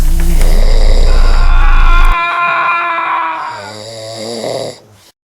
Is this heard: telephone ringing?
no